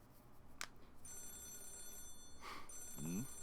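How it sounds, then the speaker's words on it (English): Telephone ringing in the video game Yakuza 0, a faint electronic ring with steady tones that starts partway in, over quiet background with brief clicks. "Is that the phone?"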